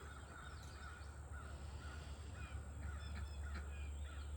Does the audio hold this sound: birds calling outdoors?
yes